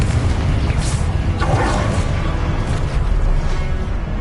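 Confringo blasting spell explosion in the Hogwarts Legacy video game: a loud, continuous booming roar with layered crackling bursts that fills the whole moment, with no speech over it.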